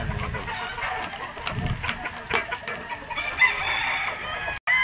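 A McLean gamefowl rooster clucks and crows on a game farm, moderately near, over a faint background of other birds.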